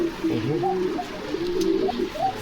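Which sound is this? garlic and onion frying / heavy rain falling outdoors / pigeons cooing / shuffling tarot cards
pigeons cooing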